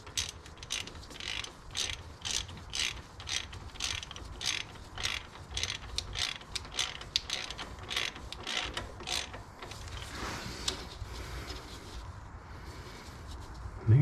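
A 10 mm socket ratcheting to tighten a fastener on a Kubota BX compact tractor, rapid rhythmic clicking pulls close up, pausing partway, then fading into quieter handling noise.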